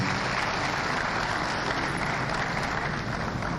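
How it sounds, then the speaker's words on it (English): Audience at a South East venture capital programme event in Enugu applauds in a dense, steady wash of clapping, loud and continuous throughout with no voices on top. "Please, can we give a big applause"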